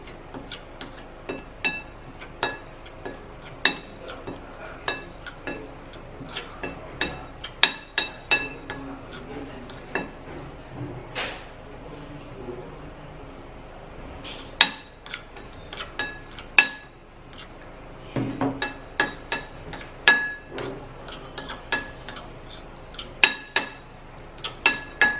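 A spoon stirring rice powder mixed with baking soda in a small container makes repeated clinks and taps against its sides, irregular and fairly close, with quiet pauses between strokes.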